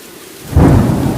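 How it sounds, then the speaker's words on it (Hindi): Sudden thunder rumbles in under heavy downpouring rain, a loud burst swelling about halfway through and holding steady, with no voices. "आकाश में तेज बिजली चमकी और देखते ही देखते मूसलाधार बारिश शुरू हो गई"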